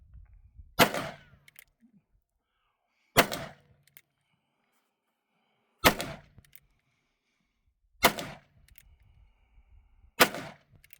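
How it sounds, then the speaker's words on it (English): A .357 Piette single-action revolver fires five loud, sharp shots at a shooting range, spaced slowly about two to three seconds apart, each followed by a short ringing echo and faint handling sounds in between. "357 Piette revolver, single action. First time shooting it."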